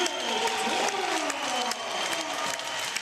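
An ice hockey arena crowd at Struan Tonnar's testimonial cheers and applauds loudly and continuously, with sliding whistles or horn tones rising above the roar.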